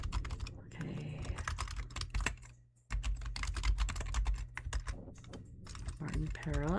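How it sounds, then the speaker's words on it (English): Computer keyboard typing in rapid, continuous bursts of clicking keys, close and fairly loud over a steady low hum, with a short pause midway and a voice briefly speaking near the end. "Is my keyboard too loud?"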